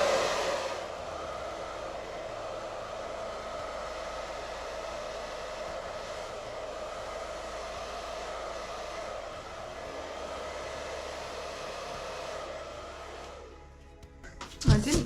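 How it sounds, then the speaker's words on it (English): A hair dryer blows with a steady, even whoosh for several seconds over acrylic pour paint on a small canvas, then cuts off with a brief clatter. "going to use my hairdryer"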